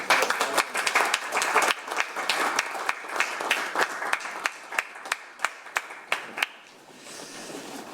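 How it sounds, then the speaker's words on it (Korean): Audience applause at a policy seminar held at the National Assembly, a dense round of clapping that thins out toward the end into a few sharp, separate claps. "박수로 마무리하겠습니다."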